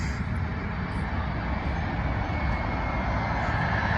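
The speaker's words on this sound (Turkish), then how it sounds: "Sanırım yine bir Embraer olabilir." An Embraer passenger jet flies past and banks right near an airport, a steady broad engine roar heard at a distance and holding constant throughout.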